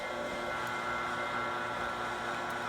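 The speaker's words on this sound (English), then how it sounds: "So now the vacuum pump is now engaged to the system through the low side." An AC vacuum pump runs on a 2012 Toyota Prius air-conditioning system, hooked to the low side: a steady, loud mechanical drone with a constant hum and no breaks.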